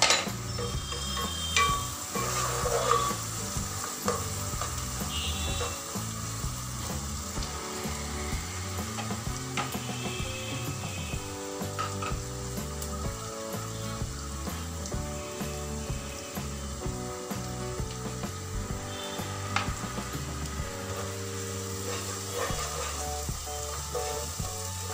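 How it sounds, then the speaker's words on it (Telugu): Onions sprinkled with a little salt frying in a pan for a jackfruit seed curry. A continuous close sizzle plays under steady background music. "ఆనియన్స్ త్వరగా మెత్తబడి తొందరగా ఫ్రై అవుతాయి."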